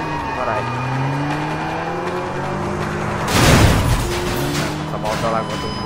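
In the video game Sleeping Dogs, a car engine rises and falls as the car speeds along, and a loud burst of tire squeal cuts in midway.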